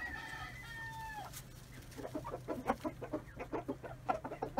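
Sultan chickens in a coop, a rooster-like crow at the start followed by rapid, rhythmic clucking from several hens, close and fairly faint.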